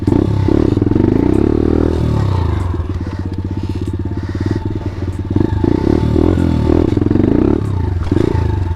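A Grom pit bike engine revs loudly and steadily in first gear as the rider pops a wheelie, with a rough chattering, clattering drone that dips and surges again, close and continuous throughout.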